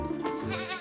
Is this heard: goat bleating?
yes